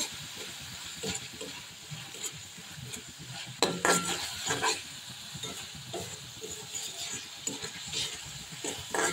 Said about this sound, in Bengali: দেখেন চিংড়িটা দিয়ে আমি একটু কষে নিচ্ছি।